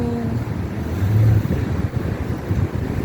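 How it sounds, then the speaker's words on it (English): Strong outdoor wind buffeting the microphone, a loud low rumble that swells and gusts without a break, apparently near the seashore. "it's really windy, so it's out"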